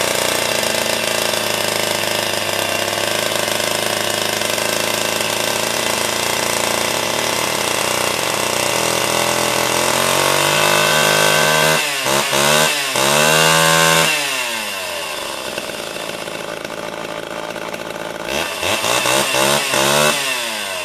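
A Homelite Big Red chainsaw runs loud and steady on its own, then its engine revs up and down in several rising and falling surges before settling back to a rough idle.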